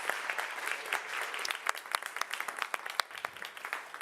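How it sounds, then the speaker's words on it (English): A conference audience applauds after a presenter's plenary talk, dense clapping holding steady for about four seconds with sharp individual claps standing out in a large hall. "let's give her another round of applause"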